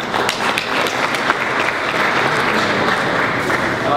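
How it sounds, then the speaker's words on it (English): A packed audience applauds a defense official at a speaking event, a dense, steady wash of many hands clapping at close range for the whole stretch with no pause. "Give them another clap."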